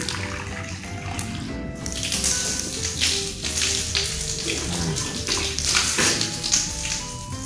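Water splashing and running from a tap while the mouth and nose are rinsed during wudhu ablution, with steady flow and irregular nearby splashes, no talking.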